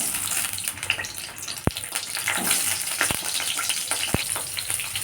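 Pointed gourd pieces fry in hot oil in a wok with a steady, dense sizzle, punctuated by a few sharp clinks of a spatula against the metal, no talking.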